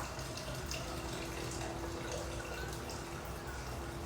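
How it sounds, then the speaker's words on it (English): About 500 grams of boiling water is poured for risotto in a kitchen, a steady close hiss and splash of liquid that runs continuously without breaks. "Okay, 500 grams of boiling water."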